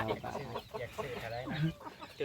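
Chickens and ducks at a rural Thai house cluck and squawk in short, scattered calls near the listener, mixed with faint background voices.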